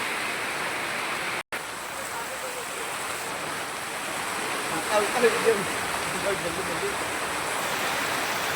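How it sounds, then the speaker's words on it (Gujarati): Heavy rain pours down on a village in a dense, unbroken roar, cut by one very brief dropout near the start, with faint voices mixed into the downpour. "વરસાદ ચાલુ થઈ ગયો ભાઈ."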